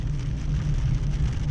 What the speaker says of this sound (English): we've got a little storm blowing up, a little bit of rain